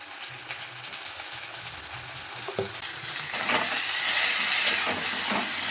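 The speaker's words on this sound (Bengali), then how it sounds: "হালকা করে একটু পোস্তটা কষাবো" Poppy seeds lightly frying in oil, a soft steady sizzle with occasional stirring scrapes that grows louder and brighter partway through.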